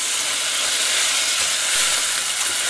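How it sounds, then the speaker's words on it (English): Chopped onion sautes in about a tablespoon of olive oil over medium heat on a stove, giving a steady, close, unbroken sizzle and hiss with no talking. "Now I'm just going to dump in my onion and saute for about 5 minutes."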